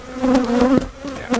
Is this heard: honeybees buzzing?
yes